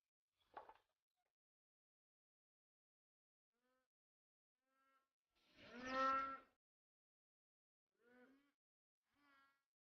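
Cattle low as the herd leaves its shed at sunrise for forest and meadow grazing in rural Russia: a loud drawn-out moo near the middle, with shorter fainter calls before and after amid quiet gaps.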